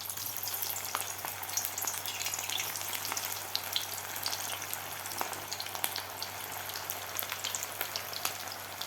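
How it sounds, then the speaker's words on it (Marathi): Potato-stuffed bread rolls deep frying in hot oil over a medium flame, giving a steady, close bubbling sizzle with fine crackles throughout and no voices. "मीडियम गॅसवर हे तळून घ्यायचे आहेत."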